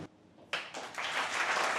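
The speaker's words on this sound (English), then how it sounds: "let's give a round of applause to welcome Tan Min Liang, Chang Wen, Dione Song, and Ben Paul, our moderator" An audience bursts into applause to welcome a panel at an evening event at Razer's Southeast Asia headquarters, starting after a brief lull and swelling into steady, dense clapping from many people.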